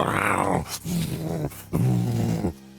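A voice imitates a person growling and struggling while fighting, giving rough, strained guttural growls in several bursts with short pauses between them. The growls are loud and close.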